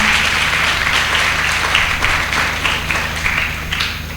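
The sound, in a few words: congregation applauding the priest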